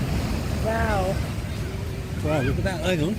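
Sea waves wash in near the shore with a steady broadband roar while a person talks excitedly over it.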